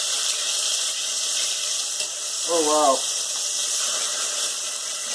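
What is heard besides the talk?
beef pieces sizzling in oil while stir frying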